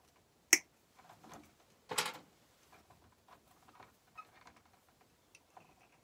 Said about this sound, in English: I'm going to snip these spade connections off